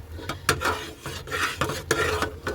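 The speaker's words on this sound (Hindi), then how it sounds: "अब हम इसे 10 मिनट के लिए पकाएंगे चलाते हुए।" A spoon scrapes and stirs a thick, reducing milk mixture for matka mawa kulfi in a pot, with repeated rhythmic strokes and scraping clicks against the metal, close and moderately loud with no talking.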